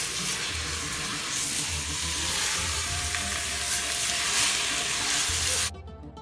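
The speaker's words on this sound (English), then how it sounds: "Then add the beef pieces and mix until it changes the color" Beef pieces sizzle loudly in a pan while being stirred, a dense steady hiss with soft rhythmic scraping underneath, cutting off abruptly near the end.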